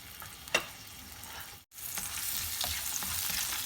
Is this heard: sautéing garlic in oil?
yes